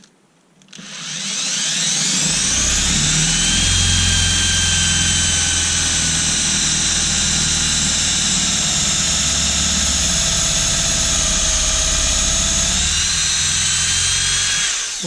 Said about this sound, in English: it's a 10mm drill bit, so let's just try drilling.